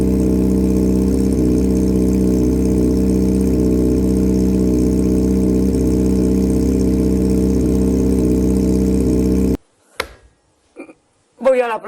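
A Honda CBR600RR motorcycle engine idles roughly nearby, its loud, steady drone wavering as the revs stumble for about nine seconds before it cuts off abruptly and a voice speaks briefly.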